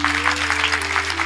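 An audience at a Mahashivratri kirtan claps in a dense, steady burst of applause, with a sustained tonal hum running underneath.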